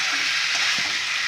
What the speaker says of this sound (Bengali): দেখুন ছোলার ডাল এঁচোড় কষা হয়ে গেছে।